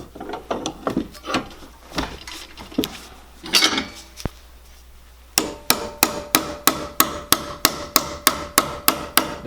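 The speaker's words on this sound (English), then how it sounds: "all I do is I take my ball peen hammer and I'll tap that over a little bit" A ball peen hammer taps metal while a sugar cane stripper with a wooden handle is being built: scattered knocks and handling first, then a steady run of about a dozen evenly spaced, ringing close strikes.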